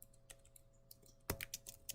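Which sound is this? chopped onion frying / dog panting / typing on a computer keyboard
typing on a computer keyboard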